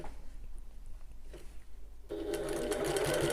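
A sewing machine starts up partway through, running a steady, continuous whirring stitch along a curved seam on a Half-pint Hobo bag after a quiet stretch.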